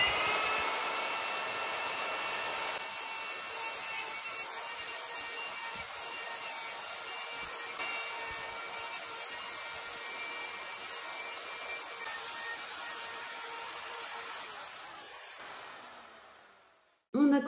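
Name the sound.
carving a square recess into a wooden board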